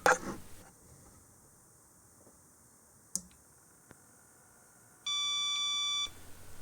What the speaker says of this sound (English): there are some beep codes. 8 of them, and that means that a graphics card is missing.